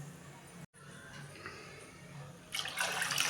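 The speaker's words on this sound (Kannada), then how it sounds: "ಇದರಲ್ಲೇ ಎರಡು ಬಟ್ಲು ನೀರು ಹಾಕ್ತೀನಿ" Two cups of water are poured into measured rice in a cooking pot for green pulao; a quiet stretch gives way to a splashing pour in the final second.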